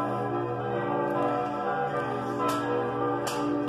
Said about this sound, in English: Do those bells ever stop?